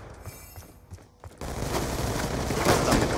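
Rapid gunfire in the Black Ops 2 shooter game, a sudden dense burst of automatic shots that starts abruptly and continues loud and steady after a brief lull.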